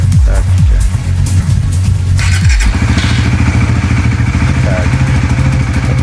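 A Suzuki GSX-S150 motorcycle engine cranks with a few clattering turns via a keyless start, then catches and settles into a steady, loud, rapid idle.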